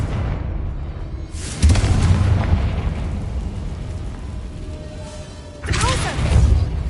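Confringo spell blasts in the Hogwarts Legacy video game, two loud booming bursts with crackling tails, the second near the end, over steady game ambience and background music.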